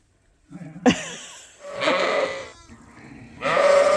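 Sheep and lambs bleating on a farm, a short sharp cry followed by three longer wavering bleats in quick succession, close and clear with no talking.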